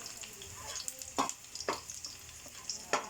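Garlic and onion sautéing for chicken sisig in a home kitchen, with stirring scrapes and a steady soft sizzle, several sharper utensil clinks standing out over the frying.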